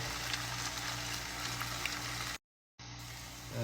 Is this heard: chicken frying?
yes